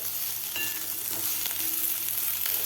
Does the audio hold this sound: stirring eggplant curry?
yes